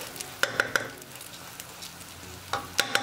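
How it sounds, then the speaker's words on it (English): Vegetables for fried rice sizzle and crackle in a hot pan, with sharp clicks of a utensil tapping and stirring at irregular moments. "So after stir frying,"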